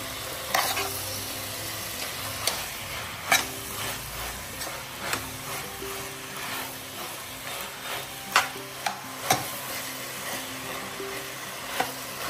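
Avarekalu beans sautéing in a spiced tempering, a steady close sizzle broken by sharp scrapes and clacks of a spoon stirring the pan, with no one speaking.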